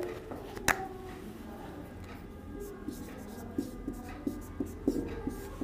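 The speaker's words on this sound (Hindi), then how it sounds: "लिख लेते हैं हम।" Pen scratching on paper as notes are written by hand, a run of soft, close strokes and taps, with a sharper tap near the start.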